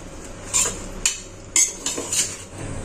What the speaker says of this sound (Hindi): ये सबको मैं मिक्स करूंगी।